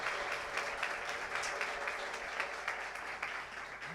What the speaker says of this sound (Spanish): le damos un aplauso de bienvenida